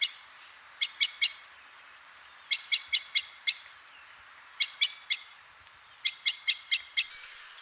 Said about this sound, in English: The first of which is the chink, chink, chink alarm call of the blackbird